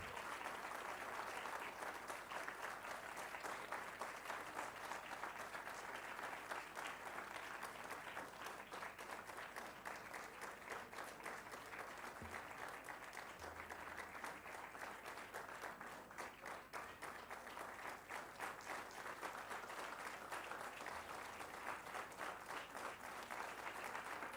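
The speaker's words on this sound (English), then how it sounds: "Standing ovation and thundering applause for Dr. C.A. Amanchug." A standing ovation for a degree recipient at an MBA convocation ceremony, a dense, sustained roar of clapping from a large hall audience that stays even and unbroken throughout, heard from some distance.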